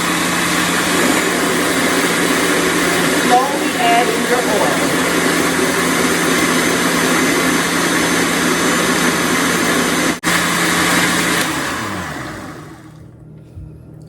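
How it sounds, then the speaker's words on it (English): A blender runs while MCT oil is slowly poured into the liquid, giving a loud, steady motor whir that fills the room for about twelve seconds before spinning down and fading at the end. "Make sure you start that blender first and let it run while you're incorporating your MCT oil so that it can combine and not stay separated."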